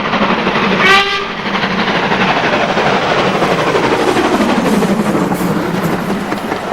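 LMS 2MT 41241 steam locomotive working hard near a tunnel, with a short whistle blast early on followed by a continuous roaring rumble of exhaust and rolling stock that stays loud throughout.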